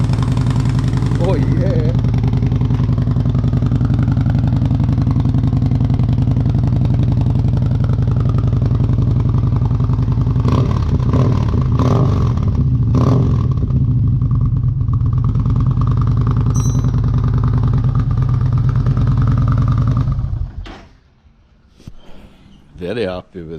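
A Yamaha Bolt motorcycle with a Delkevic exhaust and the baffle fitted runs loud and close in a deep, steady idle for about twenty seconds before cutting off, with someone briefly speaking.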